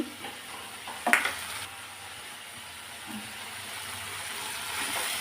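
Chicken keema with turmeric being stirred and fried in a pan, a soft, steady sizzle with a brief spoon-and-pan clatter near the start.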